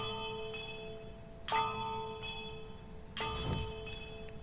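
A bell struck three times in a video game Easter egg, each ring a clear metallic tone evenly spaced and slowly fading, with a short extra sound right after the third ring; no talking.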